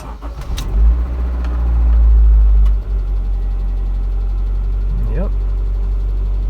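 Honda CR-V or Accord with a stalling and no-start fault, the engine cranking briefly, catching and settling into a steady loud idle, heard close by.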